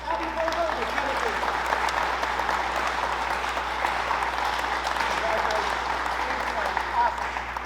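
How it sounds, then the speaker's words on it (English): Audience at a school meeting claps in a sustained, even round of applause from a medium-sized crowd, moderately distant and steady throughout. "if you could join me and just give a round of applause here to Abby Berger and Kennedy."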